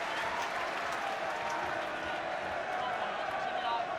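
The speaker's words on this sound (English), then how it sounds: "They've all just been standing up and applauding their players." Home fans standing and applauding their players in a football stadium during Swindon Town versus Chelsea, a dense, continuous wash of clapping and crowd noise filling the whole stretch, with a commentator talking over it.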